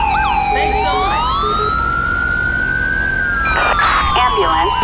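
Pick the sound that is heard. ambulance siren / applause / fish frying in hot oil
ambulance siren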